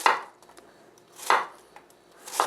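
Vegetables for a soft tofu stew being sliced thin and small with a knife: three crisp, close chopping thuds on a board at roughly one-second intervals, with faint lighter taps between them and no talking.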